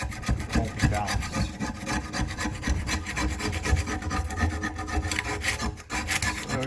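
Scraping caked grass and debris off a lawnmower blade, a steady rough rasping rub with repeated strokes, close and fairly loud, with no talk.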